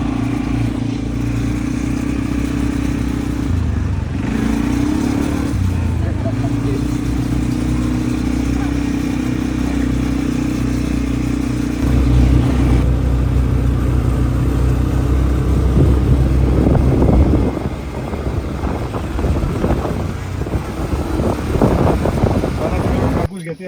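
A quad bike engine drones steadily, with wind buffeting the microphone, before the engine note rises and rough, bumpy riding noise sets in. Voices are heard in the background.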